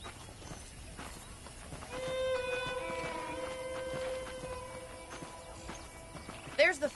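Horses in the Red Dead Redemption video game clip-clop at a walk with a whinny, layered under game music with sustained tonal notes and a voice talking, ending in a few louder hoof or movement bumps.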